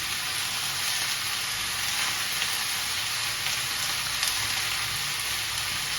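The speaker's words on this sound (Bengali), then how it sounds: "কেটে রাখা খেরো আর আলু। ভালো করে নাড়িয়ে চাড়িয়ে দেব" Chopped khero and potatoes fry in a pan and are stirred, giving a steady, even sizzle that runs unbroken throughout.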